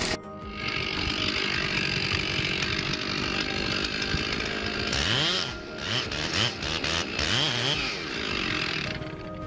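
A chainsaw roars loud and close while cutting down a huge tree, a dense sustained engine whine with a pitch that dips and revs partway through as the bar bites into the wood.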